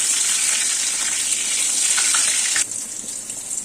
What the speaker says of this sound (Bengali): এইভাবে লাল লাল করে বেগুনগুলোকে ভেজে নিতে হবে।